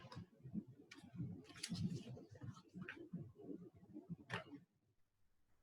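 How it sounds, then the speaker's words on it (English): Tarot cards being shuffled by hand, a quiet run of soft riffling clicks and flutters in bursts, close and faint, ending in near silence. "One more shuffle."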